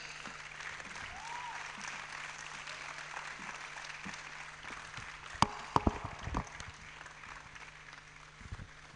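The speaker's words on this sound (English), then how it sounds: "with a round of applause, kindly help me welcome Mrs. Tagoba Abayaje." A crowd at a university campus event applauds continuously in a dense, even wash of clapping, with a few louder thumps near the end.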